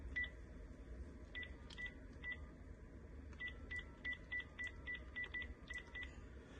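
Quiet keypad tones from a Panasonic KX-TGF350 DECT 6.0 cordless phone beep in short bursts, a few spaced presses and then a quicker run of dialed digits over low background hum.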